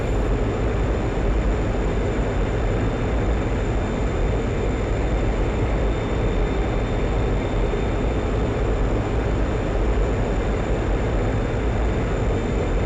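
A MiG-21 jet engine roars steadily during a descent in a flight simulator game, a loud, unbroken broadband rumble with a faint high whine throughout.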